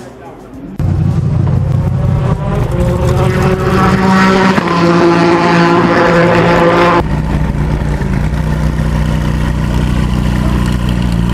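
Supercars idle and rev nearby at a McLaren car meet at Montlhéry, a loud close engine drone with shifting revs that drops to a lower rumble near the end, voices mixed in.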